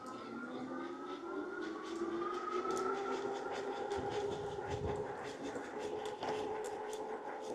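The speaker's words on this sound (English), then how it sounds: "Motor kicked in." A 2000W Globalkeep Solei X8 electric dirt bike's motor engages while riding, giving a steady whine that rises in pitch over a constant rumble of wind and road noise.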